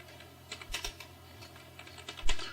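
Someone types on a computer keyboard, a short run of light, irregular key clicks with a louder tap near the end, close and alone.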